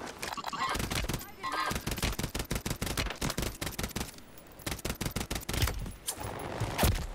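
Rapid, dense gunfire in Call of Duty Warzone Rebirth, with shots cracking in quick bursts throughout and a few heavier reports near the end, loud and close, mixed with game noise.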